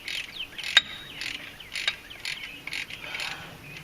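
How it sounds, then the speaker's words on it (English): Torque wrench tightening brake caliper pins on a Ford Super Duty, giving a series of close, quiet ratcheting clicks in short bursts with a sharp click near the start. "So the next step will be to torque those pins down."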